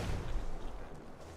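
A grenade explodes in Ghost Recon Wildlands, a faint, distant low thump with a short rumbling tail, quiet against the surrounding game ambience.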